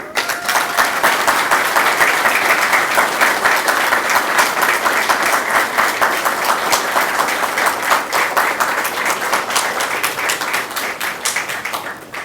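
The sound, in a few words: audience applause for the faculty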